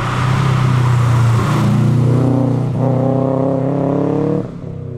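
A classic Subaru Impreza WRX turbo engine accelerates with a loud, steady drone that rises in pitch through the gears, heard close from inside the car, easing off near the end.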